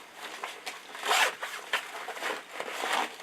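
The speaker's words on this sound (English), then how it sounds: "There's a zipper pouch in the back of this." Zipper on a pouch in the back of a DJI Mavic Air drone case, pulled in several quick close rasping strokes with short pauses between them and no talking.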